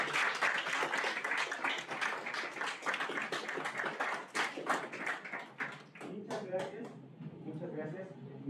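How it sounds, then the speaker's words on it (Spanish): A room full of people applauds steadily, the clapping thinning out toward the end as it fades away. "Recibámonos con un fuerte aplauso"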